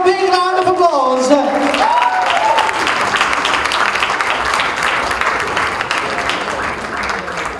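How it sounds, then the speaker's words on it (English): Loud crowd applause and cheering at a game launch event as Ranbir Kapoor and Anushka Sharma come on stage, a dense sustained clapping with shouts, following an announcer's amplified voice at the start. "Give them a big round of applause."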